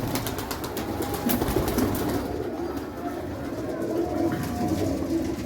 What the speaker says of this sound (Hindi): ये हमारा काना है जी, काना, चल भाई काने शहजादे, क्योंकि अभी कबूतर जो है ना